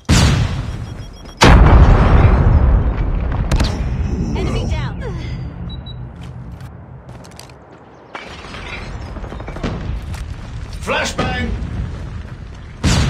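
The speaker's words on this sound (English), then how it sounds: "Flashbang!" Flashbang grenade in COD Mobile ranked Domination bursts with a sharp, loud boom followed by a ringing, decaying wash, then a second blast hits later, with game voice callouts in between.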